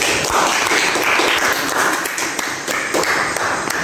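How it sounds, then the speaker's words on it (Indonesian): A classroom full of students applauds a classmate, dense steady clapping that fills the space for a few seconds with no talking over it. "Beri aplaus dulu kepada temannya yang sudah berdiskusi."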